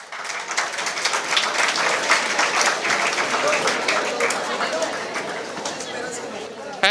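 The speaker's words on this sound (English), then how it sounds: "Let's have a round of applause for them." An audience at a community career seminar gives a sustained round of applause as speakers are honored on stage, steady clapping with voices and chatter mixed in, ending abruptly.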